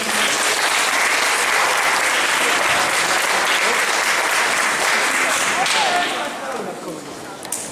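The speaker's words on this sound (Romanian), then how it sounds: "Aplauze, vă rog." Loud, dense applause from a crowd at a stand-up comedy show, sustained for several seconds at full strength before thinning out near the end.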